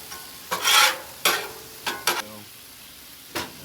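Lo mein stirred and tossed in hot oil on a 22-inch Blackstone griddle, giving several short bursts of sizzling and scraping at irregular intervals, close and fairly loud, with quiet gaps between.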